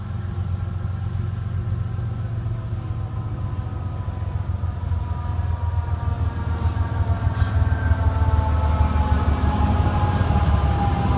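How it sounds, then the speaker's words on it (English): A train rumbles past, a steady low roar that slowly builds in loudness, with drawn-out horn-like tones layered above the rolling noise and no talk. "I hear a train coming, so I'm going to stop recording because it's going to get loud."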